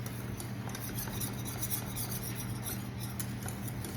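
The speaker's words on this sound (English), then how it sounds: "we're just whisking" Metal whisk scraping steadily around a pan of cornstarch custard on the stove, a continuous close rhythmic scratching and clinking with no talk.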